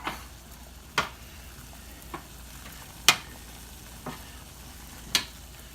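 Meatballs fry in a pan with a soft, steady sizzle, broken by a few sharp crackles and light clinks spaced about a second apart, close by with no talking.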